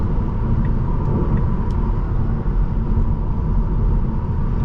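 Interior drone of a 2020 Tesla Model 3 Performance accelerating hard from about 50 to 80, a steady loud electric motor and road rumble with no voices.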